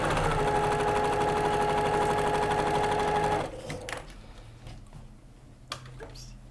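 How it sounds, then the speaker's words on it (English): A sewing machine stitches quilt pieces with a quarter-inch seam, humming with a fast, steady mechanical rattle for about three and a half seconds before stopping, followed by faint handling clicks and quiet talk. "we're sewing 1/4 inch on both sides"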